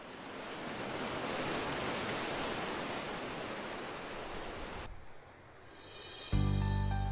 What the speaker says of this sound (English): Most of the island's shoreline is exposed to violent waves.